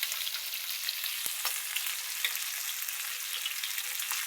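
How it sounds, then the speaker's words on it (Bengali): Fish frying in oil in a home kitchen, a constant dense sizzle with faint occasional crackles, close and even throughout. "এখানে এগুলো মাছ ভাজার বাকি আছে, ভাজবো।"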